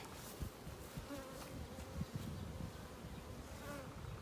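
Honey bees buzz at a hive in a nuc box, a dense continuous hum with no voices, close and steady.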